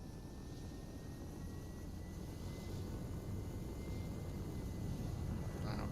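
A remote-controlled model helicopter flies at full throttle, a continuous buzzing whine at middle distance that swells gradually louder over several seconds, with outdoor background noise under it.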